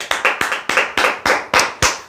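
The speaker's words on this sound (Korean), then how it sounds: "여러분, 박수!" Clapping at the close of a lecture on insurance telemarketing sales: about eight crisp, close claps in an even rhythm, with no talking.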